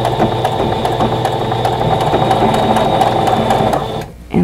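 A sewing machine stitches a quilt block seam in a steady, fast mechanical whirr that runs continuously at close range, then stops abruptly near the end.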